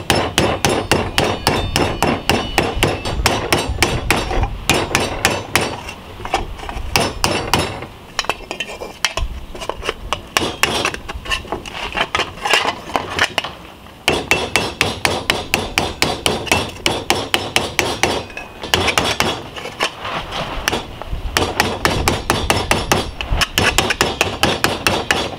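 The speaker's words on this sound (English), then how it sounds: "right now I'm going to try and hammer it out" Rapid, steady hammering on copper sheet, ringing blows in long runs with a couple of brief pauses, close and loud.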